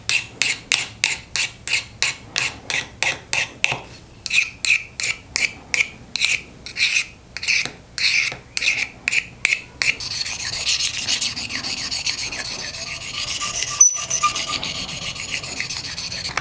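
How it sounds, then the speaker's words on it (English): A burr tool rasps the inside of a wooden bowl in quick rhythmic strokes, about two per second, close and loud, then shifts to a steadier continuous grinding scrape for the last several seconds. "this will just give it a nice little burr to kind of clean up the inside bowl"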